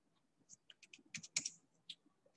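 Typing on a computer keyboard while a command prompt window is opened, a quick run of close, crisp key clicks with uneven rhythm and a brief denser burst in the middle, heard alone without talk.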